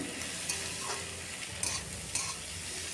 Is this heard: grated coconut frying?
yes